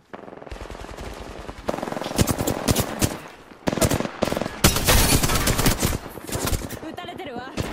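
Automatic gunfire in the video game Apex Legends, dense rapid bursts of shots close up, with brief pauses between volleys and game voices mixed in.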